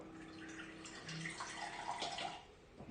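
A small pump pushes filtered water from a Puritii filter through a tube into a 5-gallon jug, giving a steady, soft, bubbling splash of running water with no talking.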